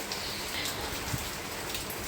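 Steady rain pours down in a continuous broadband hiss, with drops pattering on surfaces close by, no voices over it.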